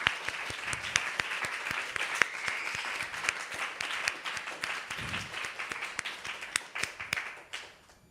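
Audience applause at a devotional celebration for Srila Prabhupada's disappearance day, steady clapping from a large crowd sustained for about eight seconds, fading slightly at the end.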